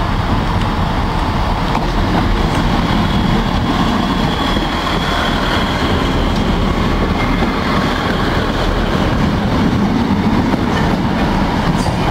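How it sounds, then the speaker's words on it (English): A train rumbles steadily past on the rails, a loud, continuous roar with faint rhythmic clatter of wheels throughout. "we've now got a green for the Lincoln train to go"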